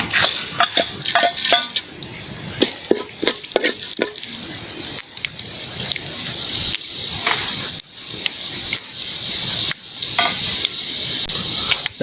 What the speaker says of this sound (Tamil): இப்போ எண்ணெய் காஞ்சிடுச்சு. வெந்தயத்தை போட்டுடலாம்.